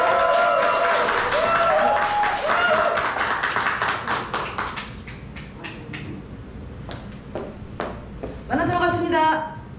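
Applause welcoming a speaker at a company seminar in a Busan hotel, crisp clapping that thins out over several seconds while a voice talks over it.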